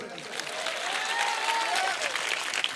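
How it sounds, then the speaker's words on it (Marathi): Loud, dense applause from an audience at a live motivational speech by Professor Vitthal Kangane, a steady clapping wash lasting the whole moment with no one speaking over it. "आणि आता जोरदार टाळ्या होत्या मायासाठी."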